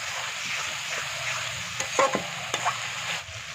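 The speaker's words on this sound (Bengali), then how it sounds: "এবার এই মশলাটা কাঁচা গন্ধ চলে যাওয়া পর্যন্ত কষাবো" A paste of ginger, garlic, green chili and onion sautés in oil for chicken curry, a steady low sizzle broken by a few sharp spoon scrapes and clinks near the end, close up with no talking.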